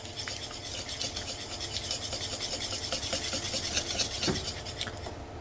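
Peanut butter, butter and two sugars being mixed in a bowl for peanut butter cookies, a close, continuous rubbing and scraping of the utensil through thick dough with a steady rhythm and no voices.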